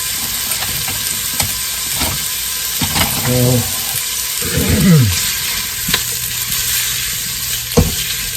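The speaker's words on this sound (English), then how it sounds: "Now we'll just let that saute up a little bit and get a little color on it" Sausage sautés in a soup pot for cabbage and sausage soup, giving a steady close sizzle with occasional stirring scrapes and clinks, and a brief bit of talk partway through.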